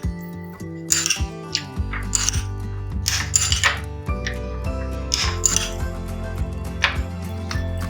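A spoon stirs macaroni pasta with chili sauce in a pan, producing scattered metallic clinks and scrapes, some sharp and close, over steady background music.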